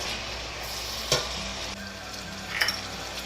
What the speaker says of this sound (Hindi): इसके साथ अब इसको हम भून लेंगे जब तक कि गोश्त का कलर चेंज ना हो